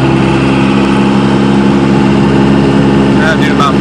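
A turbocharged car engine, fitted with an HE351VE turbo, runs steadily in fourth gear at about 60 mph, a loud continuous drone with strong low harmonics and a brief higher whistle near the end.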